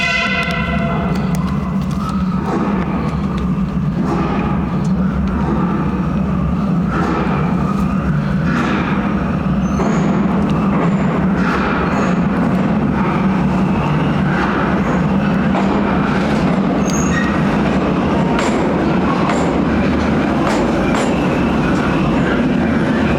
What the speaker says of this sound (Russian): мотовоз с тоннелемоечной машиной прошел